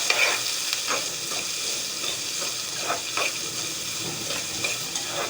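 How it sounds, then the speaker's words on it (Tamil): Onions with rock salt sautéing in a pan for Tamil-style fish gravy, giving a steady close sizzle with soft hissing and a few faint stirring scrapes throughout, no voices. "இப்போ நல்லா வதக்கிக்கோங்க"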